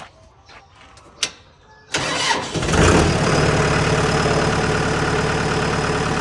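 A 2019 Kubota M6040SU tractor engine cranks after a few light clicks, catches with a loud burst, then settles into a steady, rough diesel idle close by.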